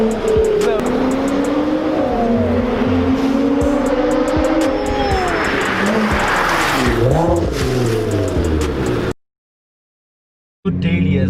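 A Nissan GT-R sports car drives under loud, steady engine drone with rising and falling gear-change sweeps and some road roar, cutting to silence near the end before the engine resumes briefly.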